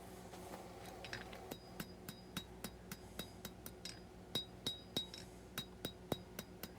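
A hammer rings on steel at an anvil while drawing out the point of a small skinner knife blade. The blows are sharp and metallic, landing in a steady, fairly quick rhythm with bright clinking overtones, close and clear and without talk.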